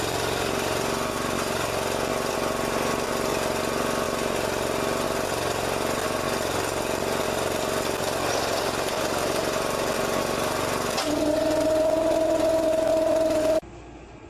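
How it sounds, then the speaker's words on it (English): Trencher machine digging a drain trench for a driveway catch basin, a loud steady engine drone with constant grinding, shifting to a higher tone near the end before dropping off abruptly, with no talking. "Now we're going to finish the trenching with the machine"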